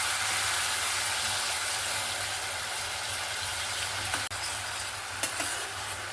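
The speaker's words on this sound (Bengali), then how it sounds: "এখানে আমি মিক্সি ধোয়া জলটা দিয়ে ভালো করে নাড়াচাড়া করে নিয়েছি" Masala sizzles in a pan after water used to rinse the mixer is added, with a steady frying hiss and a couple of brief scrapes or knocks from stirring, close and with no talk.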